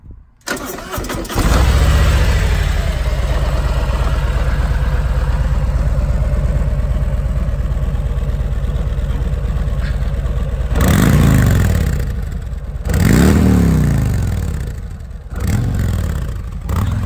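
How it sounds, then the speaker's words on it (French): A Harley-Davidson touring motorcycle, Road Glide or Road King, starts keylessly with a loud crank and catch, settles into a deep, loping idle, then gives two sharp revs that swell and fall back, close to the bike. "Démarrage."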